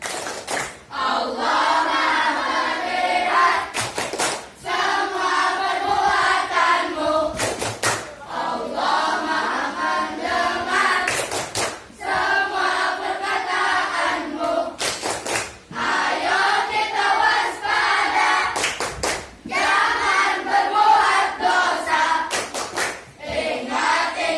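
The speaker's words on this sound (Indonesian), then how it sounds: "Yang satu lagi, tepuk ihsan." Schoolchildren in a sixth-grade Islamic studies class perform the tepuk ihsan clapping chant together: loud, close group chanting punctuated by sharp unison hand claps at regular intervals, repeated as a rhythmic pattern.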